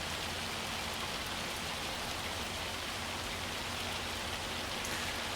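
Hail pelts down in the Farming Simulator 25 farming game, a dense, loud, unbroken hiss of hard pellets striking surfaces, steady from start to finish with no voices.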